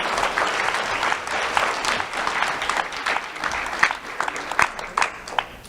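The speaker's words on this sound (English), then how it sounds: "Round of applause, please, for Aaron Diaz." Audience applause at a sheriff's office awards ceremony honoring Aaron Diaz, a dense steady patter of many hands clapping with a few sharper claps near the end, moderately loud throughout.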